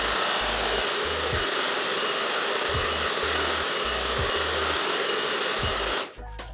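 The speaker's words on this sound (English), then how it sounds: "I use this dryer. It's a hair dryer" Hair dryer blowing steadily to dry glue on a board, a loud, close whooshing roar with a faint rhythmic low thump underneath, cutting off abruptly near the end.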